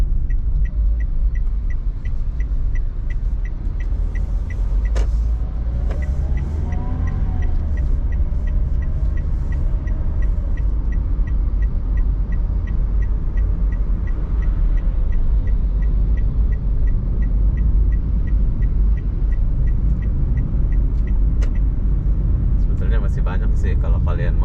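A car drives through the streets of Batam, Indonesia, toward evening, its steady engine rumble and road noise filling the cabin throughout, with a person talking over it.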